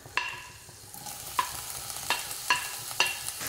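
Crushed shallots frying in hot coconut oil in a kadai, with a low sizzle and sharp, spaced scraping taps of a spoon stirring against the metal, faint and close.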